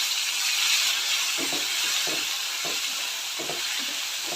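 Chilies and onions frying in oil in a pan for a Kerala-style dried fish curry, a steady close sizzle and hiss with a few soft stirring scrapes; no talking.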